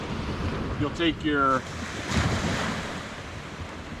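Steady windswept surf roars on a beach, a constant broad wash with gusts hitting the microphone, while someone speaks briefly at the start.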